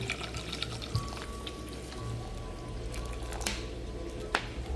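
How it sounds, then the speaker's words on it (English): Bottled water poured into a cooking pot in a kitchen in Ghana, a steady soft trickling and splashing stream running throughout at moderate, close level with a faint background hum. "So I just pour my water in there."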